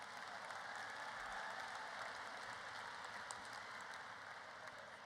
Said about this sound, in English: another round of applause for them as they get back to their seats